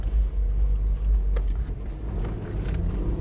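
A Toyota Land Cruiser Prado 120 with a manual gearbox labours in second gear, its engine a low, steady, strained rumble close by, with no clear rise in revs.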